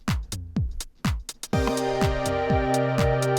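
A drum loop with sharp kicks plays in a music production session, then a sustained synth chord enters and holds under the continuing beat.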